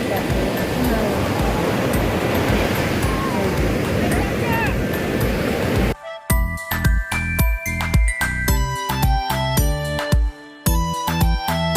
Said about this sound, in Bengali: এই দেখো সমুদ্র